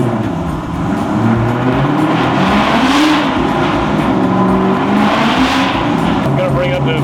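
A car engine revving steadily in third gear on a dyno, a loud, sustained drone whose pitch rises and falls in slow sweeps, heard close with a continuous low rumble.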